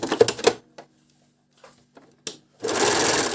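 SilverCrest 90 A1 overlock sewing machine running, short whirring bursts and clicks at the start, a pause with faint clatter, then a loud steady motor run at the end.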